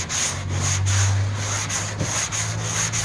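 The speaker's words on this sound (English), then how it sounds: "Keep light pressure and make the X with your sandpaper." A sanding block with sandpaper rubbed back and forth across a 1970 Chevelle hood, steady rhythmic scratchy strokes close up with a low hum underneath and no talking.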